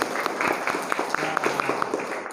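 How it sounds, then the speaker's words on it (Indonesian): Students in a morning class clapping for themselves, a short, uneven burst of close hand claps with some voices mixed in. "beri tepuk tangan untuk kalian semua"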